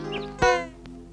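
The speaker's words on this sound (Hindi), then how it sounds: "कहाँ है वो बिल्ली?" A single short, rising cat meow close by in a Hindi film, set against a steady tonal background with a faint second vocal cry earlier.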